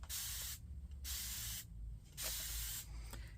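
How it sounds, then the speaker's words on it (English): Three bursts of hissing spray from a trigger bottle spraying water onto a painted IOD transfer, each about half a second long, separated by short pauses, close and clear. "I'm going to take my spray bottle, and this is where it gets messy, and I'm just going to spray it."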